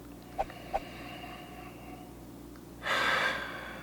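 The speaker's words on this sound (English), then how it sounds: "So go ahead and inhale deep." A deep nasal inhale over a glass of cask-strength Irish whiskey: two faint sniffs early on, then one longer, stronger breath drawn in through the nose near the end, close and quiet with no talking.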